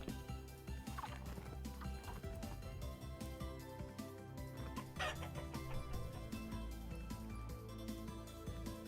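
Chicken clucking in the video game Vintage Story, agitated bursts of clucks heard near the start and again around the middle over a steady bed of game music and ambience.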